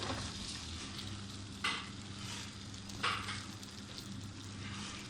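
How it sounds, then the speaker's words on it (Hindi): Pendi frying in oil in a kadhai makes a continuous soft sizzle, broken twice by brief scraping stirs of a spoon against the pan. "पहले हम पेंडी को फ्राई करेंगे।"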